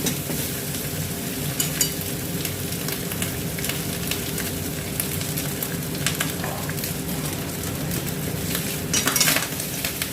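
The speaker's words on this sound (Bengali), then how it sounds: "এটা ভালো করে নাড়তে হবে।" Fried rice made with Dehradun rice gets stirred in a pan, a continuous sizzle broken by repeated scraping and metallic utensil clinks, close up and with no voices.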